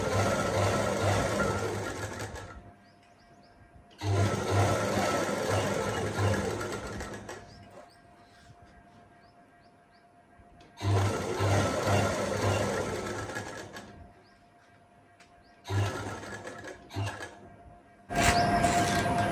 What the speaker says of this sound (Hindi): इलास्टिक को खींचना है और सिलाई को लगाते हुए जाना है